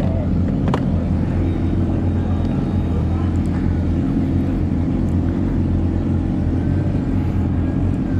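Yamaha R6 sport motorcycle engine with quick shifter droning steadily under a ride, with heavy wind rush throughout and no talk.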